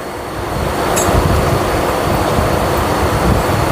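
A train rolls through the Belur railway workshop on a short Howrah route, giving a steady, loud broadband rumble and rattle with a brief high squeal near the start, no talk.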